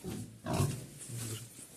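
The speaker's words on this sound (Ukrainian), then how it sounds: "свиноматка ось лежиться" A sow lying in a broken cage in a pen gives low grunts, close and moderately loud, with one deeper grunt in the middle and softer snuffling around it.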